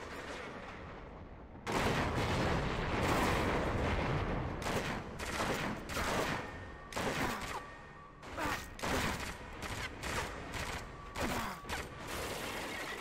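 Gunfire and explosions in the video game 007 Agent Under Fire come as a series of sharp, broadband blasts. A long burst is followed by shorter, irregular bangs, and the whole mix is fairly faint with no speech.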